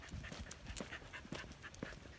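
Small dogs out on a walk pant quickly and rhythmically, a soft, fairly faint string of short breathy huffs with no talk over it.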